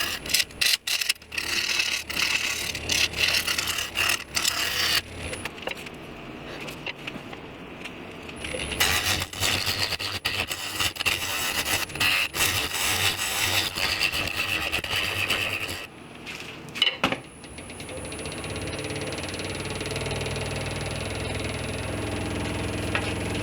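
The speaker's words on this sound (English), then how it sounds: "Here I'm cutting for the tenon, so I can flip it around and take the worm screw out" A lathe tool cuts a tenon on an epoxy resin bowl, with scraping and chattering cuts in uneven bursts, several pauses between passes, and a steady motor hum carrying through to the end.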